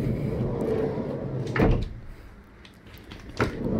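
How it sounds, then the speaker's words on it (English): A Ford Transit Custom van's sliding door gives two distinct thuds about two seconds apart, heard close over steady outdoor background noise. "Sliding doors do work as well."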